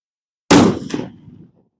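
A single sharp rifle gunshot cracks at an outdoor cadet shooting range, followed by a brief echoing tail and then silence.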